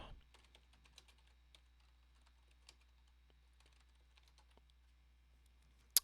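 Computer keyboard typed on quietly at close range: a light, irregular patter of key clicks over a few seconds, ending with one sharper click.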